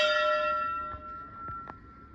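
A small temple bell struck once in a home shrine gives a bright metallic ring that fades over about two seconds, followed by a few faint soft knocks, with no talking.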